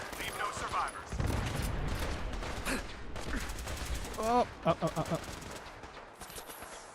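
Gunfire in Fallout 4, rapid automatic bursts crackling near and loud over several seconds amid other combat noise, with a brief spoken exclamation and a few sharp electronic chirps.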